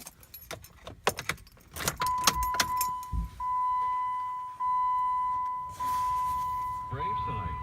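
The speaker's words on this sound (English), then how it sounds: "Turn on ignition." A Jeep JK with its ignition switched on: keys jangle near the start, then a steady electronic chime or beep tone sounds for several seconds, with a brief engine crank at the end.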